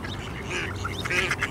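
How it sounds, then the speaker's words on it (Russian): A duck on an island quacks close by in a short burst of calls, with other bird sounds around it outdoors. "смотри, какая-то утка"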